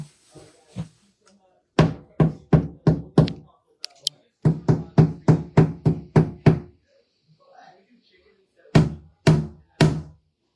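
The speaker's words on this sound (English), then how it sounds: "You thought it was Prince knocking on the door like that?" Sharp knuckle raps on a door in quick rhythmic bursts, several runs of about six to eight knocks separated by pauses, loud and close, with faint voices murmuring between the runs.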